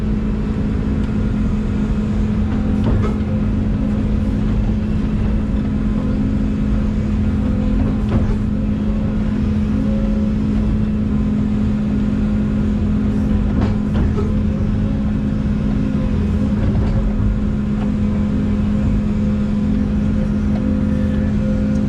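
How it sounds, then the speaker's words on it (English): Heavy equipment engine running steadily while loading a dump truck during farm pond digging, a loud constant diesel drone with a strong low hum that holds evenly throughout, with no talk over it. "All right, let me go load the dump truck."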